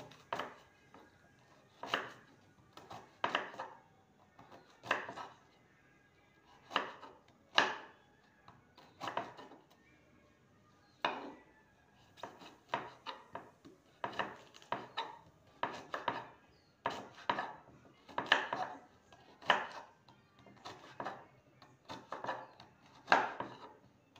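A knife slices teasel gourd (kakrol) thinly on a cutting board in a home kitchen, producing a steady series of crisp, close chopping knocks at an even rhythm, with brief pauses between bursts.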